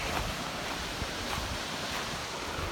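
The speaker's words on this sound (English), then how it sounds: "The waterfall here," Rushing water from a mountain waterfall at a High Sierra camp, a steady, dense broadband roar with no breaks, moderately loud and continuous, with some wind buffeting on the microphone.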